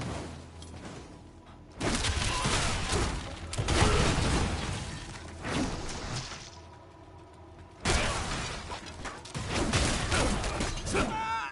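Artillery Shrine in Diablo 4 firing in heavy bursts of booming, shattering blasts, two long loud barrages separated by a quieter lull, with no talk over them.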